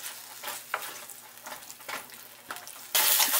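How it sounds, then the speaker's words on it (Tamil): Vegetable kurma paste sautéing in hot oil in a pan for a Saravana Bhavan style gravy, with a close, steady sizzle broken by scraping stirring strokes, growing louder and brighter near the end. "இது வந்து எண்ணெயிலே வந்து ஒரு 2 நிமிஷம் வதங்கட்டும்."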